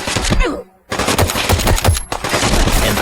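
Loud, close gunfire from an IMI .50AE Desert Eagle in Fallout 4, with rapid heavy shots cracking in quick succession, a brief pause, then more bursts; no talking.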